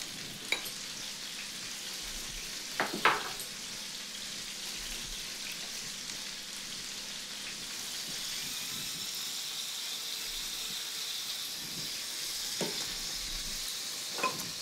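A cream sauce simmering in a pan, a soft continuous bubbling sizzle with a few sharper clinks and scrapes early on, fairly quiet and without talk.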